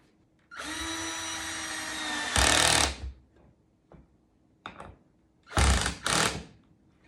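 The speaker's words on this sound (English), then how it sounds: "take your number 3 screws, and we're going to go ahead and start putting them in" Power drill driving screws into the wood of an Adirondack chair during assembly: one long steady whir, then several short loud bursts as screws seat, with quiet gaps between them.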